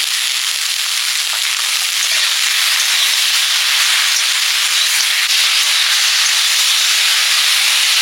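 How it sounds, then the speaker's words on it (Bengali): Okra stir-fried in a pan for a Bengali okra-and-small-fish chorchori gives a loud, steady, close sizzling hiss that runs unbroken from start to end, with no talking. "ভেন্ডিগুলো ভালো করে কষে নেব"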